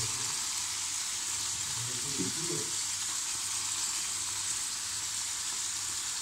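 Carrots go into a hot frying pan while a rice and liver dinner is cooked, giving a continuous crackling sizzle with a brief stirring disturbance near the middle and no talking.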